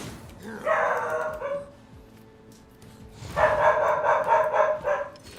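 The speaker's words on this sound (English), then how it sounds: "Just because someone's walked in front of the door doesn't mean you need to barky bark." A dog barks at someone passing a door in the video game Warhammer 40K Rogue Trader, two clear bursts of repeated yapping barks separated by a short pause, with a voice talking faintly underneath.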